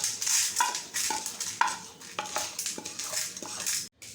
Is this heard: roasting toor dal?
yes